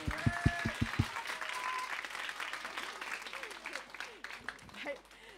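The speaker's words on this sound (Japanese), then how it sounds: "拍手で迎えたいと思います。" A church congregation at a Sunday worship service in Shinjuku, Tokyo, breaks into sustained applause, steady and dense after a few sharp claps at the start.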